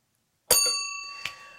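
A single bright bell strikes after silence to end an answer period, ringing with a clear sustained tone that slowly decays, touched again by a second lighter tap.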